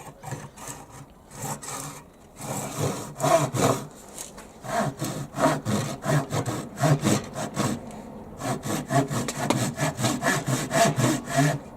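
A Japanese pull saw cuts through wood in steady back-and-forth strokes, each rasping pass clearly separated, close and fairly loud with no talking.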